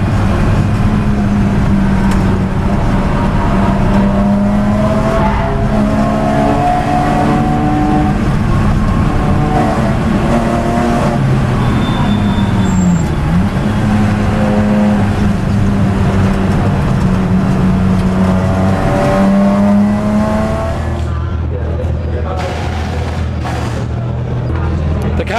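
A race car at speed in practice laps on the Nürburgring, its engine a loud, steady high-revving drone that rises and falls with gear changes before easing off near the end, with a voice speaking over it.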